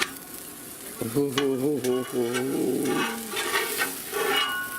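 A quesadilla flipped in a hot pan sizzles and crackles steadily at close range, with scraping and stirring noises and a short spoken comment over it.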